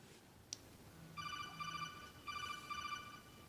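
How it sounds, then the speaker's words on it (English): A mobile phone rings in two bursts of a repeating electronic tone, fairly quiet and a little distant, over a low hum with a faint tap just before it starts. "and there goes my phone."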